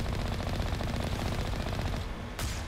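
Rapid automatic bursts from Alliance turrets guarding a privateer base in Mass Effect 1 Legendary Edition on PS5: a loud, dense rattle of gunfire that runs almost without pause, then one sharp crack near the end.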